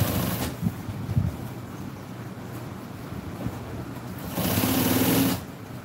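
Sewing machine running a top stitch on auto upholstery, a steady mechanical whirr throughout with a louder, busier stretch near the end, no talking.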